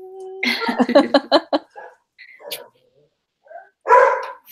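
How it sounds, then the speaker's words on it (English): A dog barks in a quick run of sharp yips, then pauses and gives a few scattered barks and one final louder bark. "Oh, my dogs are barking."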